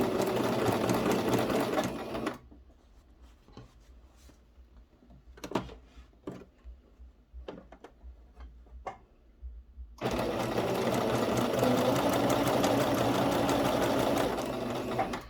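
A sewing machine stitches around the edge of fabric for a double-sided placemat cover, guided by an edge guide. A loud, rapid whir runs, stops for a pause of soft handling clicks as the fabric is turned, then resumes steadily.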